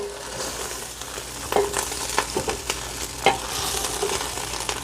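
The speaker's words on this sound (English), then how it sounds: "I'm just gonna put like a half a stick of butter in there. And we're gonna just mix that up into our rice" A half stick of butter stirred into cooked rice for an arancini filling, with steady sizzling and repeated spoon scrapes and thuds against the pot, close and clear, no voices.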